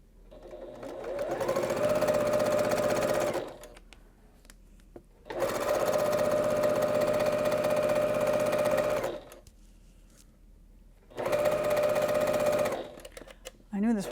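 Sewing machine stitching a large, bulky quilt block, running in three steady whirring bursts with short pauses between, close and fairly loud.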